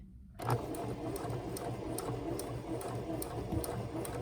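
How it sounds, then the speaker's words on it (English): A sewing machine stitches a zigzag through fabric, running steadily after a brief start with an even mechanical whir and rapid regular needle ticking, close and alone. "And from there, we can zigzag."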